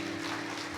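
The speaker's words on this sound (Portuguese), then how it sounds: "Uma salva de palmas para eles." Congregation in a church applauding welcomed guests, a continuous soft wash of clapping from many hands, fairly distant and even throughout the brief moment.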